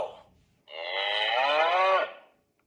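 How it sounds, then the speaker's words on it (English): A single long, loud cow moo lasting over a second, close and clear, after a brief fading sound at the start. "Cow."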